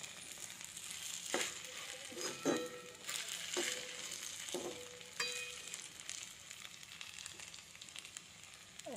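Sabudana khichdi with roasted crushed peanuts, potato, green chilli and cumin sautéing in a pan, a steady close sizzle broken by several sharp stirring scrapes and clatters, no talking.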